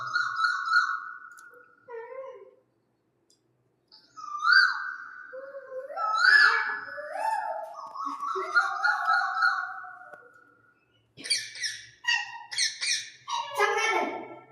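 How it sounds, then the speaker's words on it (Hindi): Koel birdsong plays as a series of melodious whistled calls and rising phrases, moderately loud and close, with short pauses between bursts and a sharper run of high calls near the end. "ये कोयल की आवाज।"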